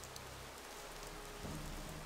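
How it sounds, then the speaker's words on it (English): Steady, fairly quiet rain patters continuously in a Gothic 2 outdoor scene, a dense even hiss with no voices. "The rain is very atmospheric"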